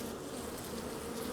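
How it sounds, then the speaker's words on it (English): Honey bees buzzing around queen cages inside a hive, with one steady, dense hum of many wings that runs evenly and continuously, moderately quiet and close. "see if I can see bees moving about inside the cages"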